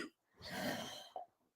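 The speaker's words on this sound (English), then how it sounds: "my cough has not gone away yet." One short, faint cough from an older man with a lingering cough, close to the microphone, followed by a brief catch of breath.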